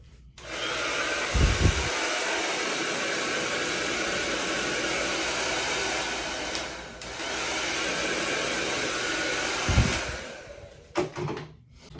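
A hair dryer at a barber station whooshes steadily and loudly, starting with a click, dipping briefly midway, then clicking off, followed by a few light knocks.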